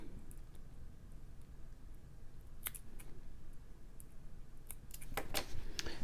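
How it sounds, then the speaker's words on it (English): Small scissors snip jewelry wire for a Halloween statement necklace, giving a few sharp, quiet clicks spaced apart, with a quicker cluster near the end over a faint background hiss. "I'm just going to trim."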